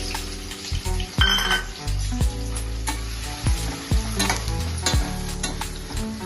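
Green chili and onion fry in two ladles of oil, with a loud, close sizzle and repeated sharp ladle knocks against the pan.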